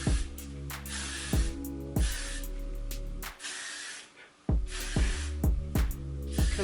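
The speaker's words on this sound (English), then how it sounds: "let me spray this." Hair spray misted onto a pre-cut lace wig in bursts with broadband hiss, over a steady low hum and repeated thumps, with a short quiet gap in the middle.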